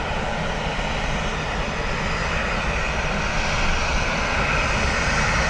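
Ryanair airliner landing on runway 28 left at Dublin Airport in a gusty crosswind, its engines a steady, loud broadband roar that holds unbroken throughout.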